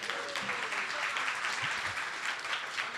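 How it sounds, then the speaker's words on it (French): Staff at a lunch gathering receive a round of applause, steady mid-distance clapping from a seated group throughout, with faint murmured voices beneath. "j'aimerais qu'on fasse une main d'applaudissement pour le personnel"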